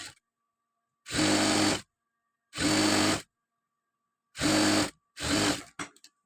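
A sewing machine stitches the hem of a chudidar, sounding in four separate loud, even bursts of under a second each, with silence between them and no talking.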